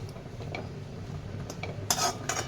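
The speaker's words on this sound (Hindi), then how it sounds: "इसको अब हम धनिया पत्ती के साथ में मिक्स करेंगे" Metal spoon clinks and scrapes against a dish as boiled potato is mixed with coriander leaves, a few soft taps early then two brighter clatters near the end, no talking.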